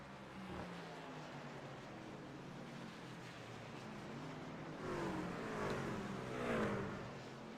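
A NASCAR truck series race truck on the Charlotte Motor Speedway Roval, its engine droning at a distance and swelling louder as it approaches and passes, heard alone without talk.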